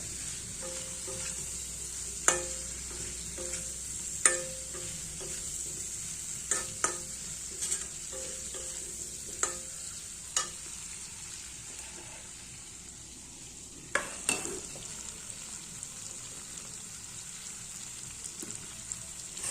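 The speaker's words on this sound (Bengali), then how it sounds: "ভালো করে এবার কষিয়ে নেবো" Masala sizzles steadily in a pan for paneer curry while a spatula stirs, giving repeated sharp taps and scrapes against the metal over a constant hiss, close and fairly soft.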